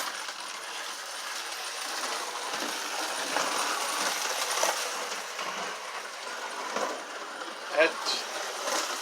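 A prewar Marx-powered American Flyer toy train engine motor runs with a faint, steady mechanical whir and light clicking and rattling, close by, with a small sharp clatter near the end.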